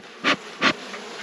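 Honey bees at a hive buzz past in two short, close passes, each a brief rising hum against a quiet background.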